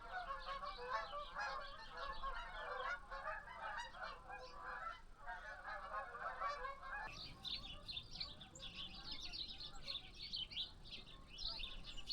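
A large flock of geese honking continuously at a distance, overlapping calls forming a noisy chorus that shifts in pitch midway.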